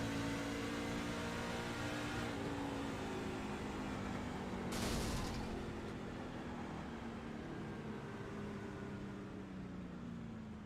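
A race truck engine in a racing simulator at Bristol Motor Speedway gives a steady drone with a sustained, slowly falling tone and a brief burst of noise midway, fading slightly toward the end.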